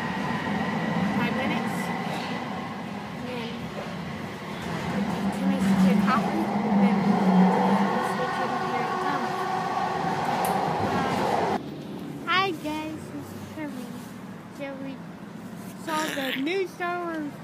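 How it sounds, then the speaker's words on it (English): Rumbling interior of a moving train, a constant low drone with rattles and a shift partway through, with people talking over it. "I'm on the train to the community."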